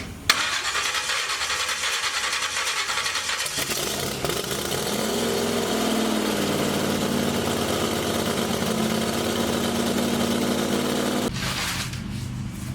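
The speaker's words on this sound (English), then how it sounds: "How's that sound for a big block Chevy?" A big block Chevy engine in a 1930 Model A fires up and runs at a loud, rough, rumbling idle nearby, steady for several seconds before the sound cuts down near the end.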